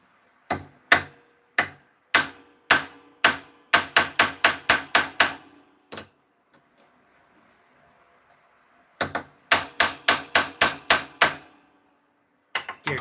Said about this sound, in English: Pull this hammer for now, though I might upgrade to a larger one.